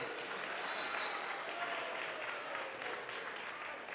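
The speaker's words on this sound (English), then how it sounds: "Give them a big round of applause." An audience at a comedy show applauds continuously, a full wash of clapping at steady volume with faint voices mixed in.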